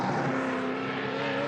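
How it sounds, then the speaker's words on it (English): A Ford Mustang race car screaming around Hidden Valley Raceway during qualifying, a loud sustained high engine howl holding a steady pitch, close and continuous with no voices. "Love the big screaming Mustang."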